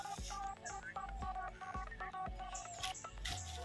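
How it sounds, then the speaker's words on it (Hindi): A phone rings with an incoming call outdoors, a repeating electronic tone pattern with short regular beeps and melodic chirps, fairly quiet over steady background noise. "आपके पिताजी का फोन आ रहा है"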